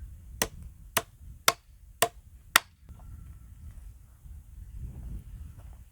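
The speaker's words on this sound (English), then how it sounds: "When in doubt, get a hammer." Five sharp hammer blows struck at an even pace, close and crisp, followed by quiet low background rumble.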